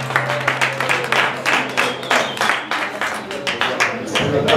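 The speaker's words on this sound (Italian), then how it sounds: "applauso" Rhythmic clapping from a small concert crowd at a festival show, with distinct claps in a steady beat, close and fairly loud, and voices mixed in underneath.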